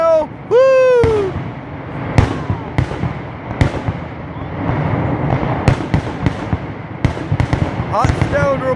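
A rapid string of fireworks bangs and crackles echoes through an outdoor family celebration in Lonaconing, Maryland, loud sharp reports arriving irregularly after a brief shout, with fizzing crackle between blasts.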